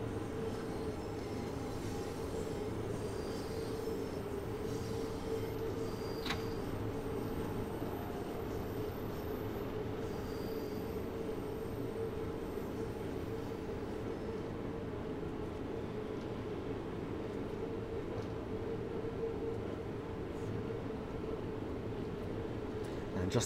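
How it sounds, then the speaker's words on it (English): A Bakerloo Line train coasts with power off in Train Sim World 2, a steady low rumble and rail drone running unbroken and evenly throughout, with a faint brief click partway through. "I'm just going to idle the power for a moment to allow the train to coast"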